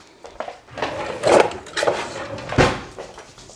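A whisk picked up from among kitchen utensils, with several close metallic clinks and knocks and light rattling as tools are moved around.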